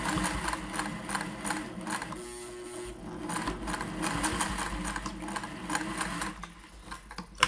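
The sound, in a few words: Singer 401a vintage sewing machine stitching through layers of muslin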